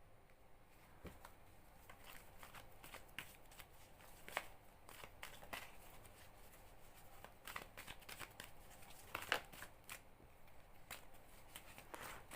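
Tarot cards being shuffled by hand, with quiet repeated riffling and soft card slaps in an irregular rhythm, close and faint, with no talking.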